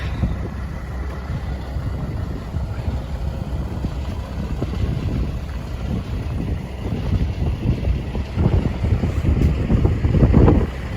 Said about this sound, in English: A little windy this morning